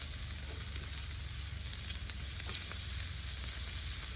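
Onions sizzle in bacon grease on a Blackstone griddle at an outdoor camp cook, a dense, even hiss that holds steady and close throughout with no voices over it.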